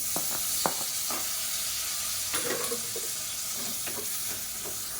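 Tomato frying in oil in a pan on the stove, with a steady close sizzle and a few sharp scrapes and clinks from the stirring spoon.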